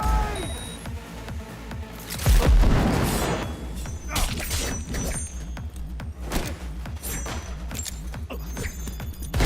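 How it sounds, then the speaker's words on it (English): A grenade goes off in a video game: a deep, heavy boom near the start, followed by scattered thuds, gunfire-like cracks and game beeps, loud and close. "Grenade!"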